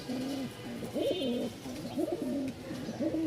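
Domestic pigeons, a male among birds kept for sale, cooing in repeated rolling calls close by, with no voices.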